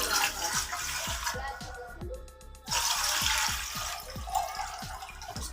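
Water pours from a glass into a pressure cooker, a steady splashing stream that briefly breaks off and resumes, heard close with a faint rhythmic knocking underneath.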